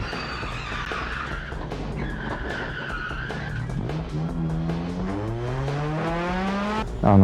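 Car tires squeal and skid in the Gran Turismo 2 racing game, a loud, sustained screech over steady engine roar that slides in pitch as the car drifts through corners.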